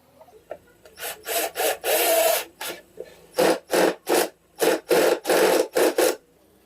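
Lotus LTDD12-30VLI cordless drill set to torque 19 drives a screw that is already fully sunk, giving a rapid series of harsh ratcheting bursts, close and loud, with short pauses between them.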